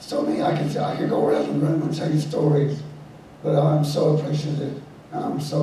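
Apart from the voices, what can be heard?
No distinct noise like a dog, phone or traffic.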